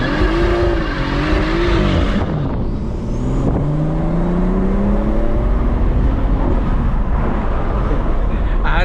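A BMW 340i spinning its tires in a burnout, the engine droning loud and steady while rising and falling in pitch, with a rough squealing roar from the tires throughout and faint talk underneath.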